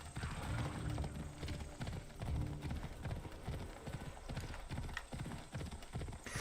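Horse hooves galloping in the video game Assassin's Creed Odyssey, a fast, steady clip-clop rhythm that keeps going close by, with faint mechanical clicks mixed in.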